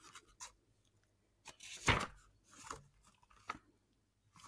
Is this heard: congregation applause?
no